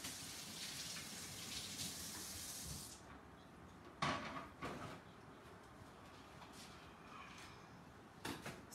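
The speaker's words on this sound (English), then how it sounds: "So let me just rinse my hands after doing that." Hands rinsed under a running kitchen tap while making tiramisu: a steady, faint hiss of flowing water that stops after about three seconds, followed by a few soft clinks and knocks.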